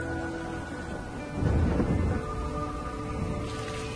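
A thunderstorm at a rocket launch site during fuelling of a vehicle's giant external tank: steady heavy rain hiss throughout, with a deep rumble of thunder swelling in the middle.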